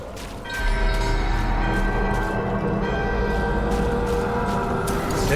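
In the Dragon Age: The Veilguard video game, a bell-waking ritual produces a resonant, sustained metallic ringing. A low mechanical rumble builds beneath it, and bright overtones shimmer over a dense layered backdrop.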